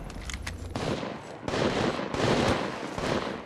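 Automatic gunfire rattles in the mobile shooter Apex Legends Mobile, dense rapid bursts broken by short pauses, loud and close, with no voices over it.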